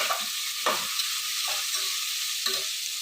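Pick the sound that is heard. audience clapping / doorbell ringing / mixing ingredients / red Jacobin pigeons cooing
mixing ingredients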